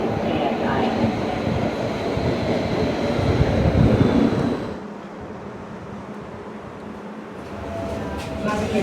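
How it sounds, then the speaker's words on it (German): A Stuttgart U14 light rail train rumbles loudly into a station, then its roar drops off as it slows to a quieter hum, with a station announcement heard over it. "Achtung, U14 nach Marienbahnhof fährt ein."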